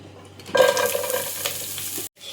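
Chopped onion drops into hot ghee in a frying pan for ghee rice, setting off a loud burst of sizzling with stirring that runs steadily, then cuts off abruptly near the end.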